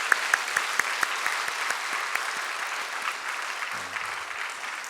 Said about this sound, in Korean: 우리 성가대에서 박수 한번 쳐주시기 바랍니다.